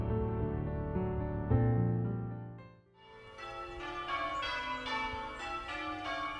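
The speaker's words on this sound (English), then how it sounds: "The tower boasts a peal of 8 bells" A church tower's peal of eight bells rings in overlapping, resonant strikes, the oldest of them cast in 1520. The tones shift into a brighter, busier pattern partway through, with no talking.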